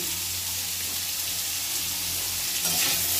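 Ghot kochu taro pieces fry in a pan after salt is added, giving a steady close sizzle with a faint watery hiss and an occasional stir throughout.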